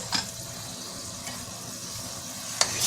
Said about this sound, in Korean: 마늘 이렇게 반 티스푼 정도, 이렇게 해서 이거를 볶아주세요